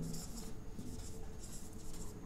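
Chalk or marker scratches across a classroom board while a definition is written, faint, close strokes in short irregular bursts, with no talking.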